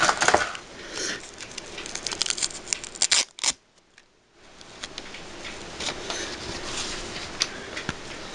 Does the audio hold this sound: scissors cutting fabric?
yes